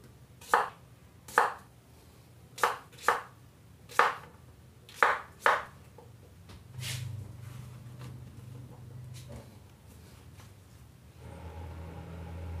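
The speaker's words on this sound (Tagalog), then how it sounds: "Yan, padayagonal natin hihiwain para maganda tignan." A knife chops through deboned meat on a cutting board, sliced diagonally: seven sharp, evenly spaced thuds close up, then a quieter stretch of faint background noise.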